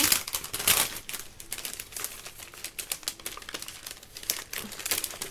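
Rubber craft stamps being pushed into a plastic storage sleeve for an autumn card project, giving close, steady crinkling and rustling of plastic with sharp crackles throughout.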